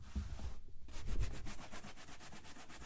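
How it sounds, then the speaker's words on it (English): Brisk brushing of Kiwi polish across a cowboy boot, a steady run of rapid rhythmic strokes, close and fairly loud, with a brief pause near the start. "you want to take your brush or your buffing cloth, whatever you're using."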